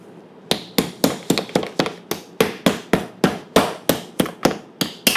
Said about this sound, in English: I have to do a steak hammer. So I'm using a hammer over here.